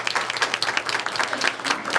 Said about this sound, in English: So I think she deserves a great big round of applause.